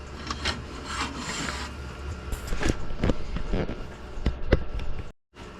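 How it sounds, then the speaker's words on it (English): Rough rasping and scratching of sandpaper against wood spinning on a lathe, starting at 150 grit, uneven and close, with occasional knocks and a sudden stop near the end. "Let's do some sanding."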